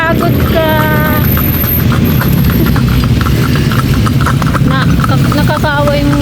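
A horse clip-clops along a street in Vigan City, its hooves ticking steadily under a dense wash of traffic and crowd noise, with people talking nearby.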